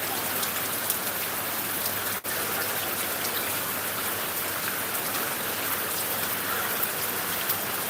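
Heavy rain pours steadily in northern Bangladesh, a dense, even hiss of drops on surfaces that holds without pause, with one brief dropout partway through.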